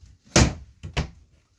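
An RV closet door on a gas strut swings shut, making a firm thud followed by a second, lighter knock and a softer settling tap, close and alone.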